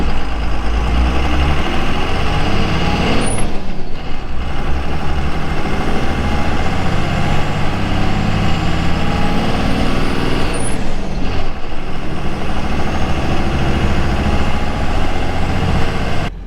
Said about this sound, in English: let's go warm the truck up